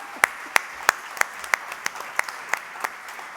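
Applause from a conference audience at an innovation awards ceremony, sparse and fairly faint, with about a dozen distinct claps in an even, unhurried rhythm.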